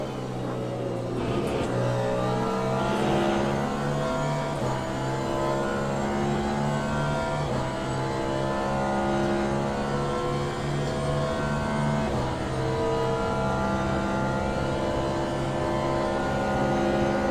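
A Cadillac Hypercar race car engine in the Le Mans Ultimate video game drones steadily throughout, its pitch stepping up and down through gear changes, with a loud continuous synthetic tone and no talking.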